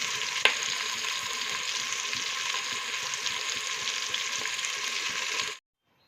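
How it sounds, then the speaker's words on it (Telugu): Onion pieces frying with salt in a pan for drumstick sambar, an even close sizzle with one sharp clink near the start, stopping abruptly at the end with no speech. "సాల్ట్ వేసుకొని ఆనియన్ ముక్కలైతే మంచిగా వేపుకుంటాను"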